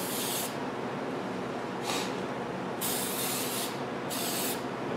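Aerosol spray paint cans hissing in repeated bursts as light coats go onto an alloy wheel, each spray a steady close hiss of about a second, separated by short pauses over continuous background noise.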